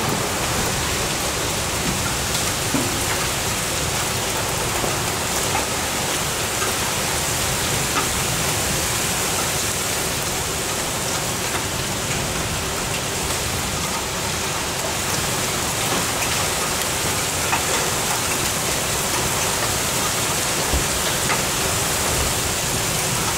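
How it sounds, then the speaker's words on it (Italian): Hail and heavy rain pour down during a supercell storm in Verona, a loud, dense, unbroken roar of impacts that holds steady throughout with no voices. "Sta grandinando, si comincia."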